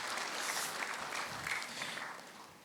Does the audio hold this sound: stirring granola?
no